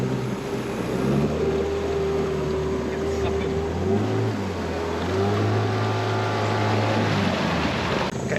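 A dinghy's two-stroke Yamaha outboard motor drones loudly and steadily as the boat runs through surf, its pitch dipping and rising with the waves, with wind noise throughout.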